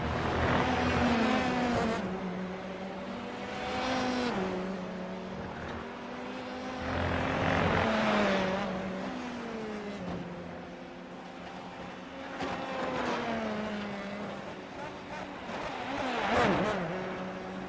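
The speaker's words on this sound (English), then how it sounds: "an interesting engine noise we just heard out of that number 16 machine" Formula 3 race car engines in a racing video game whine and rise in pitch through repeated acceleration runs, each swell lasting a few seconds before dropping back, a steady rhythm of gear changes heard without talk.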